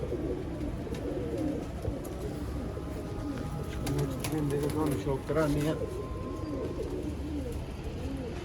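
Champion bloodline pigeons coo repeatedly in soft, overlapping bursts close by, while someone talks over them throughout.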